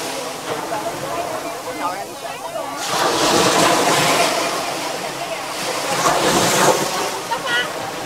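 Sea waves roll onto Bai Dai beach at Cam Ranh near Nha Trang, a windy surf wash that swells loudly twice over eight seconds, heard under voices talking nearby.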